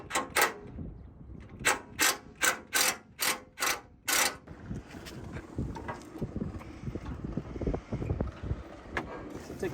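An impact driver with a Torx 40 bit removes bolts on a 2021 Ford during a fog light bracket install. Seven or eight sharp, closely spaced hammering bursts come first, then quieter rattling and shop clatter.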